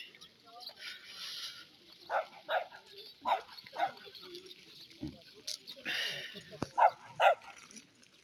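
Dogs of various breeds, some with braided coats, bark in short scattered bursts at a dog festival in Gunma, Japan, with crowd chatter and voices underneath throughout.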